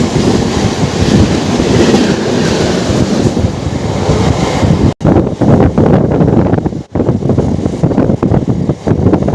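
The Bibhuti Express runs past on the rails, loud and close, its steady roar broken by wind buffeting the microphone and rhythmic clatter of wagons over the track.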